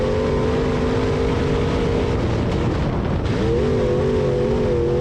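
A B-mod race car at Springfield Raceway drives through a turn, its engine droning close and loud with a steady tone that dips briefly mid-turn before rising again, under heavy wind noise.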